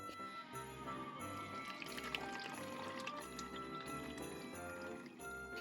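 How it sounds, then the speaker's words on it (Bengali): A cup of warm water pours into a cooking pan of simmering curry, a soft continuous liquid trickle heard under steady background music. "এরপরে রান্নায় অ্যাড করলাম এক কাপ উষ্ণ গরম জল"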